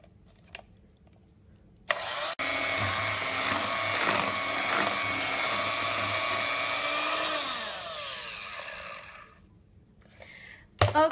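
An electric mixer runs steadily for about seven seconds, churning chocolate velvet cake batter in a bowl. It starts with a click, whirs at an even pitch, then winds down, and no one speaks.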